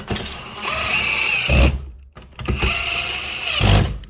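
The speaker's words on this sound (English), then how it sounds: "Then we're gonna take our screw gun. We're gonna tighten it down." A screw gun tightens screws into an outlet box in two close, loud bursts of high whining drive, each ending in a low thud as the screw seats, with a short pause between them.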